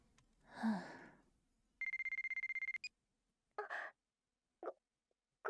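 A mobile phone rings in the visual novel game White Album 2, a steady electronic ringtone pulsing for about a second, then short chirps follow, with no talk over it.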